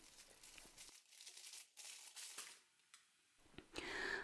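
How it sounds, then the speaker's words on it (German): Stiff baking paper carrying bread dough crinkles and rustles as it is gripped by the corners and lowered into a pot, several short crackling bursts with quiet gaps, louder crumpling at the end. "Dafür greift man das Papier an den Ecken und verfrachtet alles in den Topf."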